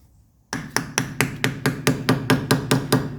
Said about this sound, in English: Let me get my rubber mallet.